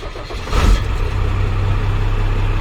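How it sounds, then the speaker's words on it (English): An old Cummins 12 valve diesel in a rollback truck cranks and catches at about half a second, then settles into a loud, steady, rumbling idle close by. "start the old Cummins 12 valve up, and then we got to get it in gear to flip the PTO on"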